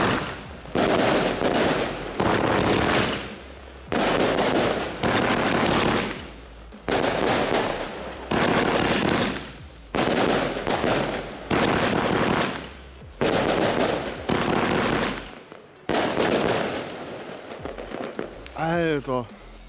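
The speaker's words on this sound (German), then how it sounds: "Natürlich habe ich auch noch eine Salut-Batterie für euch" A New Year's Eve firework salute battery firing a long string of sharp, rapid bangs in bursts, loud and continuous for many seconds with brief pauses.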